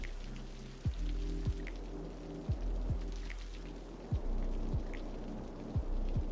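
Rain in the city-building game Cities: Skylines 2, a steady soft patter of falling rain with periodic sharp low thuds every second or so, continuous and fairly quiet with no talk.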